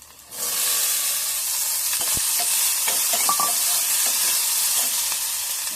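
Green toor dal sundal tipped into a hot pan bursts into a loud, steady sizzle almost at once, with scattered crackles and pops as it keeps frying.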